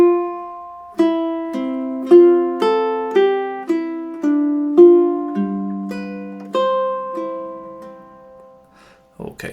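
Solo ukulele plays measures 5 to 8 of Fernando Sor's Opus 60 no. 1, a simple classical study, with evenly spaced plucked notes and a final ringing chord, close and clear, ending in a brief handling noise.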